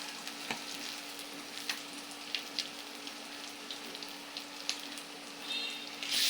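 Onion frying in a pan with ginger and garlic, a steady soft sizzle with occasional stirring clicks and scrapes, close but fairly quiet, swelling slightly louder at the end, no talking.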